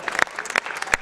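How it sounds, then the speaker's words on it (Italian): Audience clapping in a brief, close burst of dense, uneven hand claps, with no voices over it. "fate pure l'applauso"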